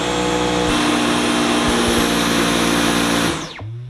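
A Dyson V11 Absolute cordless vacuum runs loudly and steadily on its auto setting with a constant high whine, then winds down sharply near the end and leaves a low hum.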